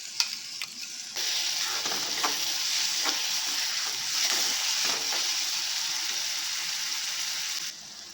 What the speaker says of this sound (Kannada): ಲೋ ಫ್ಲೇಮಲ್ಲಿಟ್ಟು ಸ್ವಲ್ಪ ಇದು ಫ್ರೈ ಮಾಡ್ಕೊಳ್ಳೋಣ.